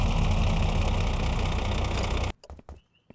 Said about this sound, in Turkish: arabadan traktör sesi çıkıyor